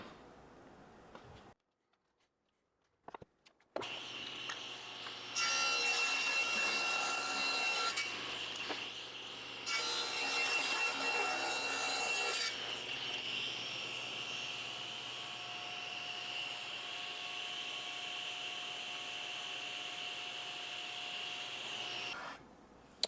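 Hand saw cutting a wooden workbench part, with two louder bursts of steady stroking followed by quieter continuous rasping, close and alone without talk.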